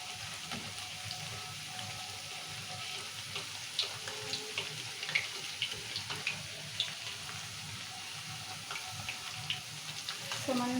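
Rice flour appalu sizzle in hot oil in a kadai, a steady bubbling fry with small crackles and pops throughout, moderately close, while a voice talks faintly over it.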